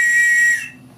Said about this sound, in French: Il y a même un sifflet au cas où tu te perdras en mer.